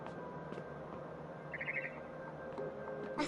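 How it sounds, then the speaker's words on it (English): A barn swallow chirps outside a window in What Remains of Edith Finch, a quick run of faint, high tweets in the middle over a quiet, low background ambience. "Then I heard chirping outside my window."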